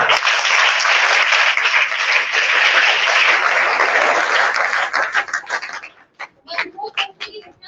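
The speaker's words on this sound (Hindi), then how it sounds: "तो पहले एक बार जोरदार तालियां" Dense applause from a crowd at a Harela celebration at a national institute for the visually impaired, steady and loud for several seconds, then thinning into scattered claps and some voices.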